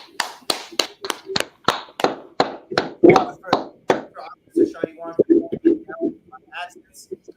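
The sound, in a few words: audience clapping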